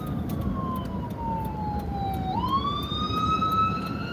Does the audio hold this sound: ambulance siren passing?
yes